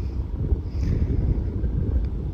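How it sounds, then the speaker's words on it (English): Strong wind gusting during a lightning storm, a steady loud low roar buffeting the microphone throughout with no pauses. "here comes the wind"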